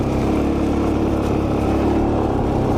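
Engine of a 2003 Suzuki DRZ400E off-road motorcycle running in a dry field, a continuous loud low rumble with a steady buzzing drone and no talk.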